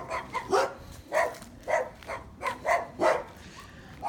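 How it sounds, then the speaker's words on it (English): Dogs bark behind a house in a run of about eight sharp, evenly spaced barks, moderately loud and a little distant, with no talking. "Looks like we got dogs back here now"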